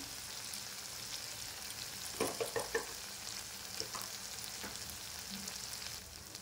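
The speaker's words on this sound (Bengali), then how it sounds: "একটু নাড়িয়ে নেব" Ground turmeric and cumin being stirred into a frying soybean and potato curry: a soft, steady pan sizzle with a short cluster of spoon scrapes and taps near the middle and a few scattered clinks later.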